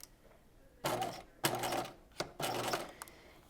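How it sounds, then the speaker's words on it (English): A sewing machine fitted with a twin needle top stitches a hem in three quick, close bursts of rapid mechanical stitching, with short pauses between them. "I've gone ahead and put my twin needle back into the machine, and I'm going to top stitch this at 1/2 inch"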